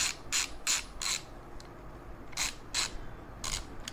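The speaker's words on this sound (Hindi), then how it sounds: "अब बड़े वाले रेचर की तरफ चलते हैं। यहाँ पर आपको आधे का रेचर मिल जाएगा, ये भी बहुत सॉफ्ट है।" An Ingco half-inch ratchet wrench with its largest socket fitted clicks in quick bursts, several short runs of crisp ratcheting separated by brief pauses, close and clear with no talk.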